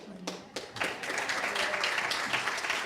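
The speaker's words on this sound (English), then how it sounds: "I'd love to give you a pre-applause and appreciation for your music team" An audience at a Unity Center church service applauds the music team, with steady, dense clapping that builds after a few scattered claps and carries on loudly throughout.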